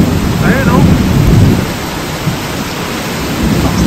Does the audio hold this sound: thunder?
yes